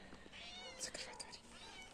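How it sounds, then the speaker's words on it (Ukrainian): Three cats meow in a home kitchen setting, giving several short, close, high-pitched cries in quick succession. "Три котика"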